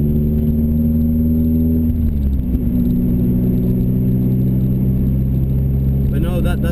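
A Nissan Silvia engine is held under load in a full-throttle pull with boost at 16, a loud, constant close roar whose pitch dips briefly partway through.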